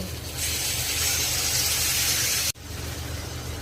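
Tomato paste hitting frying fish in a hot pan, a loud steady hissing sizzle that breaks off abruptly and then resumes.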